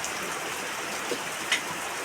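Rain falls as a steady, even hiss with a couple of faint drip-like taps.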